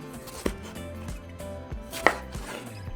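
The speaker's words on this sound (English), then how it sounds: "Just cut them in half like that." A knife cuts tomatoes in half on a board for a soup broth, with a few sharp separate chops and taps spaced unevenly, close and fairly quiet, with no talking.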